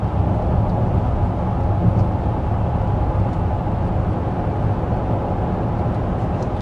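Steady cabin road noise inside a 2025 Chevy Tahoe or Traverse cruising at 55 mph, a constant low rumble and tire roar with no let-up.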